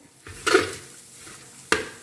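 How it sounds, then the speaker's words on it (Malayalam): Coconut mixture frying in a pan over a medium flame: a quiet low sizzle broken by two sharp clinks and scrapes of a spoon stirring against the metal pan. "ഇത് മീഡിയം ഫ്ലെയിമിൽ വറുത്തെടുക്കാം"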